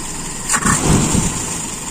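Motorcycle engine idles steadily while its carburetor idle mixture is adjusted, a brief throttle blip swelling the sound before it settles back to an even idle.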